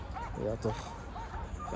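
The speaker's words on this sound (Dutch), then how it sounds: "Op afstand, je hoort de honden ook blaffen." Dogs barking at a distance in an open field, faint yips and bow-wows running under close conversation between several people.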